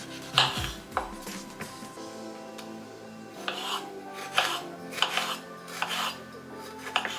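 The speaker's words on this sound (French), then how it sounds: "Alors je viens couper ma tomate que je vais rincer." Tomato being cut on a board for a pasta salad, a series of distinct knife strokes and taps spaced irregularly, close and fairly crisp, with faint kitchen clatter and no speech.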